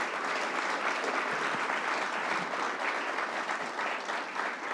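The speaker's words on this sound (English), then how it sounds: "How about a round of applause for our great governor, Kathy Hochul?" Audience applause for New York Governor Kathy Hochul at a Long Island event on firefighters' facilities, a dense, steady wash of many clapping hands lasting several seconds with no talk.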